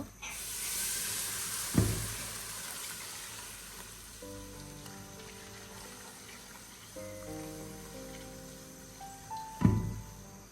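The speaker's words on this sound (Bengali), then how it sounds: "আমি কিন্তু নুডলসগুলো সিদ্ধ করে নিচ্ছি" Five packets of noodles boil in a large pot on a home stove. A steady, steamy hiss runs throughout, with two distinct knocks near the start and end and a faint hum in between. No one speaks.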